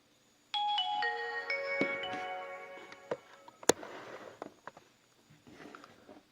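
A Nokia 2730 Classic mobile phone from 2009 plays its startup melody, a short series of bright stepped electronic tones, followed by a sharp click and soft handling noises.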